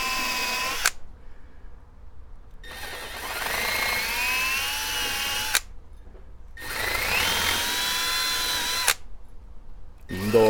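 Power drill boring 3/16 inch holes for house address numbers, two loud whining bursts that rise in pitch as the bit bites in, separated by quiet gaps.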